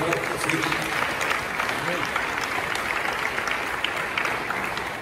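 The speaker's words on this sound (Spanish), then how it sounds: "Damos un aplauso" Church congregation at a live Sunday service clapping together, a steady close patter of many hands that holds at even loudness for several seconds, with faint voices mixed in.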